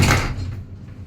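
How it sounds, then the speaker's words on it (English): Lift doors slide shut in a lift at Brent Cross Shopping Centre, giving a close, loud rumbling thud that fades into a low hum over about a second. "Doors closing."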